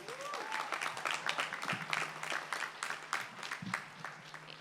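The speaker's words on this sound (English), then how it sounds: "Give these graduates a round of applause." Crowd applause for graduates at a community college commencement, steady mid-distance clapping throughout with a faint tone ringing in the background.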